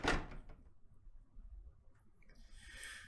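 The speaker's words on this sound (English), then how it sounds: "She slammed the door shut behind us" A door slams shut inside a building in the game SHINRAI: Broken Beyond Despair, one sharp close bang at the start that falls away to quiet room tone.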